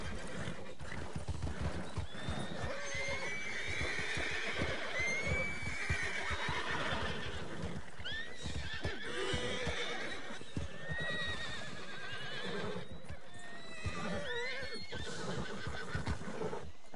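Horses in the video game Red Dead Online whinny and neigh repeatedly over steady clip-clopping hooves, several animals close by on a trail ride, loud and continuous with no talk.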